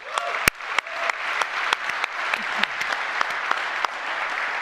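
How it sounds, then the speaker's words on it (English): A conference audience at the SaaStr Annual event claps loudly and steadily in a large hall, with a few sharp individual claps standing out and no speech. "give a round of applause so loud that they can hear it as a thank you"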